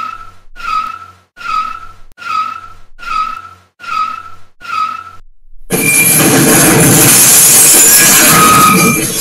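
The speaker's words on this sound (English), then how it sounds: "Our car is going out of control." A car skids out of control in a burst of seven rhythmic, screeching tire squeals, then a loud, sustained roaring crash-like noise takes over and fills the rest.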